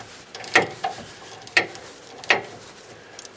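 Bolts on the front wishbone of a Ford Ranger Mk3 Wildtrak are wound out with a ratchet, giving three separate short bursts of metallic clicking and grinding, close and moderately loud, with no talking.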